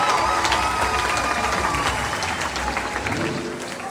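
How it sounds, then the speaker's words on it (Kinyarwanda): A crowd at an awards ceremony applauds, with dense, loud, sustained clapping that carries throughout and eases slightly toward the end. "amashyi menshi cyane"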